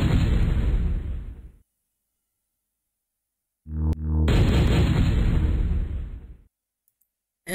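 Airstrike in the video game MechQuest, two loud rumbling explosion bursts separated by a few seconds of silence, the second opening with a sharp click and whoosh before the roaring blast decays, then another burst begins at the very end.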